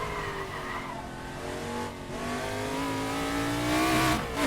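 A Formula 5000 race car in Assetto Corsa howls along on its final lap, engine pitch climbing steadily through the gears with a loud, sustained tone and a brief dip between shifts.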